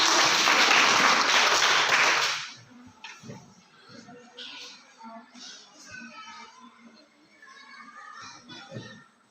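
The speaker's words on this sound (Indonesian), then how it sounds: "Tepuk tangan dulu untuk kelompok 2." A classroom of students applauds a presenting group, a burst of loud, close clapping for about two seconds that cuts off into scattered children's voices and shuffling.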